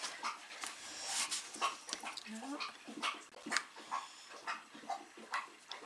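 A dog drinks noisily, with close wet lapping and slurping in a quick uneven rhythm.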